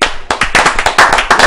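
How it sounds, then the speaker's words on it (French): Audience at a televised talk show clapping for the women, a dense burst of sharp overlapping claps and cheers, loud and close, continuing steadily without pause. "C'est vrai qu'on applaudit pour les femmes"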